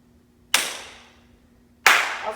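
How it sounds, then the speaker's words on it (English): A single sharp hand clap lands during a beginner tap dance step in a class; two crisp, fairly loud impacts ring out about a second apart, each fading quickly, with quiet in between. "That was a weak sounding clap."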